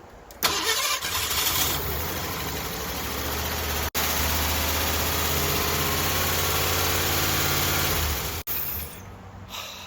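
Ford LTD V8 engine with a freshly installed camshaft cranks and catches, settling into a loud, steady rough idle with faint ticking, broken by two brief cutouts before it shuts off near the end.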